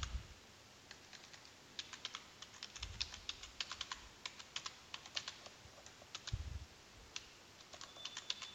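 Quick keystrokes on a computer keyboard enter a password, light clicks tapping out in short irregular runs with brief pauses, close and fairly quiet.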